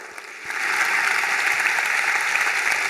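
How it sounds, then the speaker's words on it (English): An audience applauds Adam Grant at an evening book event, a dense, steady wash of many hands clapping that swells in after a quiet start and holds loud and even to the end. "Round of applause for Adam Grant."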